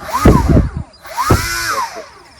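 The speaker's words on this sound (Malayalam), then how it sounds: "ത്രോട്ടിൽ ഞാൻ ഓണാക്കണം, കൈ പിടിക്കണം. ത്രോട്ടിലും ചെന്ന് പ്രൊപ്പ് കറങ്ങുന്നത്." An electric motor spins the propeller of a model Tejas fighter jet, revving up in two loud whining bursts whose pitch rises and falls, with a brief lull between them.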